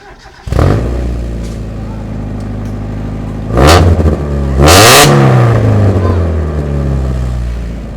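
A Mazda Miata with a straight-piped center-exit exhaust barks to life and revs sharply twice, loud and close, settling back to a rough idle between blips while people talk nearby.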